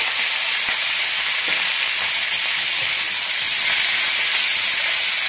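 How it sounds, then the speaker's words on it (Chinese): Lamb pieces stir-frying in hot oil in a wok, a loud continuous bright sizzle and hiss with faint scraping of stirring, close and steady with no voices. "锅里加点适量的油， 把这个羊肉炒下去"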